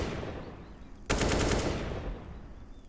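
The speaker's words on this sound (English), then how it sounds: "I don't want to waste all your ammo on that spam because you could get rushed on your reload, but now Samdai Young hopes for exactly that" A short burst of automatic rifle fire during a professional Counter-Strike match on the Ancient map, a loud, rapid volley of shots lasting about a second before fading into quieter game ambience.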